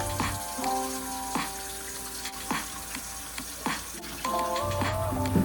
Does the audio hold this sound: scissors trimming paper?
no